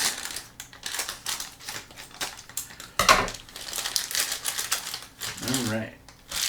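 Scissors snip open a recyclable plastic blind box bag, giving close, crinkly cutting and rustling sounds in quick irregular bursts while a person talks.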